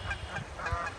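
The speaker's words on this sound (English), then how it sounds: "hello, geese." Several geese honk in short repeated calls in a park along a hiking trail, fairly close and moderately loud over faint outdoor background noise.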